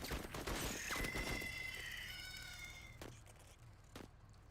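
Video game gunfire against advancing hostiles, a burst of rapid shots with a whining, tonal sweep, followed by a few isolated single cracks as the action fades, fairly quiet overall.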